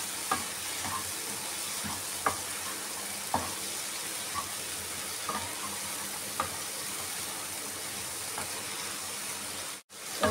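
Ridge gourd pieces and tomatoes fry in a pan, giving a steady close sizzle with repeated soft scrapes and knocks of stirring, no talk.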